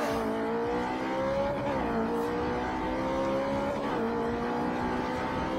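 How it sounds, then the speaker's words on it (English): A Subaru Stella STI in Forza Motorsport 4 pulls hard down a straight, its engine note climbing steadily through the gears with brief dips at each shift, loud and close throughout. "Accelerating away down the straight and build up a bit of speed again"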